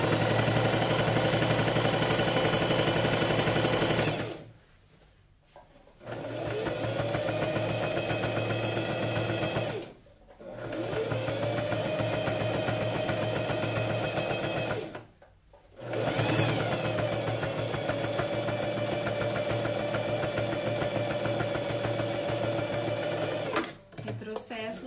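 Sewing machine stitching a coat, running in long loud steady bursts of rapid whirring broken by three short pauses, with a person speaking over it.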